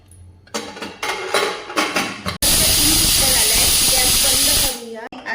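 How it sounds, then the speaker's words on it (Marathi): A pressure cooker whistle: a loud, sustained hissing whistle of steam bursts out for about two seconds, following a stretch of kitchen clatter and voices. "कुकरच्या आता आपण दोन शिट्ट्या काढून घेऊया"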